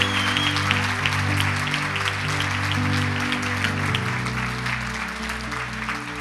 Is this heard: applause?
yes